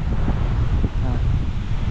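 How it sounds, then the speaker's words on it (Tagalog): Strong seaside wind after rain buffets the microphone in a steady low rumble, continuous and loud for the full two seconds. "grabe, ang lakas talaga ng hangin"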